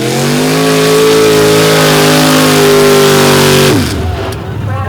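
A truck's engine screams at sustained high revs while it struggles through a mud pit at a mud slinging event, loud and close, then abruptly drops off and fades near the end.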